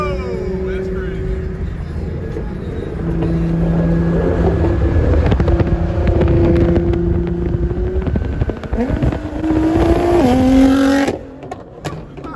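Car engines rumble and rev at a crowded underground car meet of Nissan 370Z and other sports cars, loud and close with rising pitch sweeps near the end, then cutting off sharply; voices talk over the engine noise.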